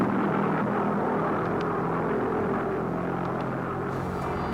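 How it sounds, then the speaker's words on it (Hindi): A V-1 flying bomb's Argus As 109 pulse jet engine drones steadily and loudly, a continuous throbbing, buzzing roar that holds constant throughout with no talking. "V-1 रॉकेट अपने Argus AS-109 pulse jet engine की वजह से मुसलसल गूंजती हुई आवाज पैदा करता था।"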